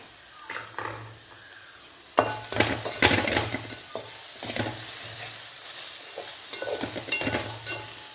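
Bean thoran being stirred in a pan with coconut oil, with repeated scraping strokes of a spoon against the pan over a light sizzle, close by and with no talking.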